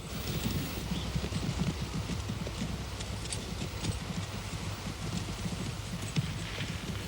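Horse hooves clip-clop steadily in a radio drama effect, a dense rapid patter of hoofbeats under a broad hiss like rain or wind, heard alone with no voices.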